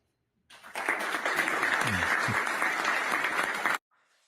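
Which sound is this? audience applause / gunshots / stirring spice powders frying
audience applause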